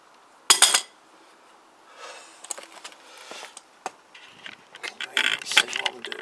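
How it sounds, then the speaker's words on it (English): Ratchet and metal tool clicks while the swingarm axle nut is removed from a Kawasaki GPZ500S motorcycle in a workshop: a sharp close clank, then scattered ratcheting clicks and rattling bursts, growing busier toward the end. "so that's the big axle nut off"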